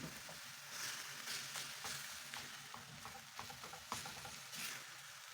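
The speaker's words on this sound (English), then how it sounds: "Stir it from time to time while breaking down the meat." Minced beef sizzles in a pan over a high-medium flame for spring roll filling, with a steady close fry and frequent scraping taps as a utensil stirs and breaks up the meat.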